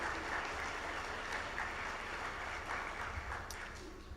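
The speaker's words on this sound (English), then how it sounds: "A biggest round of applause for the work well done." Sustained applause from a seated audience at a formal development-finance review event in Zanzibar, a steady wash of many hands clapping at moderate distance, fairly even throughout and tapering slightly at the end.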